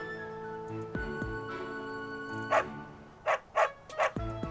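A dog in Fire Emblem: Three Houses barks in a few sharp, separate yaps near the end, sounding over soft game music and ambience.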